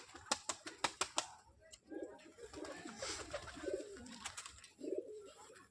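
Pigeons in a home loft with a newly acquired male bird, giving soft, low cooing in several short bursts, close by, after a run of sharp clicking taps.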